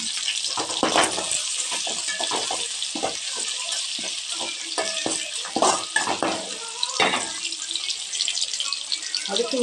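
Green chilies and onion sautéing in a pan for egg fried rice give a steady, bright sizzle. Scattered clinks and scrapes from stirring run through it.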